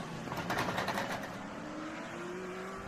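A damaged TA2 race car at Mid-Ohio grinds and scrapes loudly as it is dragged away, a rough burst of pulsing noise that fades into a steady engine drone, with no speech.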